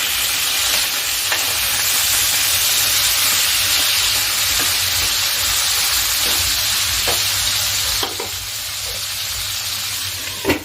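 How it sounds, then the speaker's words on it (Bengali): Pointed gourd with salt and turmeric fries in a pan with a loud, continuous hiss and sizzle, punctuated by a few stirring knocks, easing slightly near the end, heard up close with no voices. "এবার আমি পটলগুলোকে ভালো করে ভেজে নিচ্ছি"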